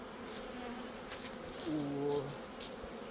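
Honeybees buzz steadily close by as they are shaken from hive frames, a droning hum that swells and fades slightly as individual bees pass near.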